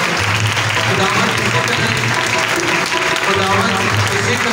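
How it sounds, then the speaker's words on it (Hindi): An audience at a live church worship event claps loudly and steadily, a dense, sustained applause that fills the whole stretch. "मैं ज़रूर चाहूँगा आप इनके लिए इतनी ताली बजाएं"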